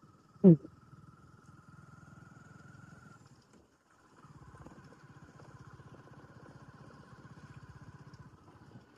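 A motorcycle rides home along a muddy rural track after rain, its engine a steady low throb broken by a brief pause, with a short sharp burst near the start.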